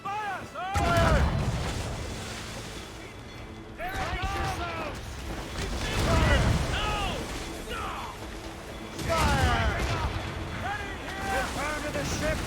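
Ship cannons firing in the naval battles of Assassin's Creed: Rogue, three heavy booming blasts spaced a few seconds apart, each with a rumbling tail, while crew voices shout over the gunfire.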